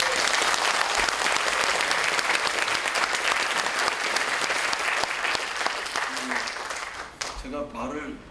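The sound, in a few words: applause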